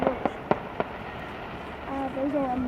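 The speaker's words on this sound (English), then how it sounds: "I love fireworks. Look at those." Fireworks at a display, a quick series of sharp bangs and crackles near the start, followed by a voice talking over the distant rumble.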